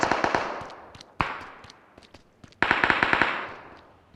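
Rapid bursts of gunfire in PUBG Mobile during a fight at a house, sharp cracking shots in three clusters with single isolated shots between them, loud and close, with no talking.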